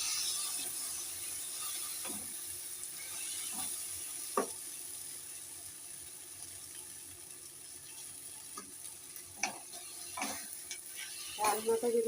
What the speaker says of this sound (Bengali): এবার আমি একটু আবার নাড়বো।